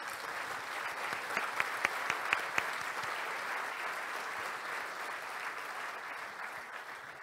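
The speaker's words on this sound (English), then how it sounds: "Let's start by giving him a round of applause." An audience at the BruCON security conference gives a speaker a round of applause, a steady mass of clapping lasting several seconds, with a few sharper claps standing out near the start before it evens out and slowly fades.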